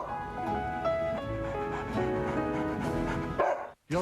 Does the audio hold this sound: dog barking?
yes